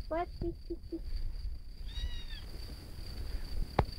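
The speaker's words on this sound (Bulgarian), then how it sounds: "Добре, имаме си котка." A small striped kitten mews several times in quick, high-pitched chirps, then gives one thin, wavering cry. It sounds close against a steady outdoor background hiss with no talking.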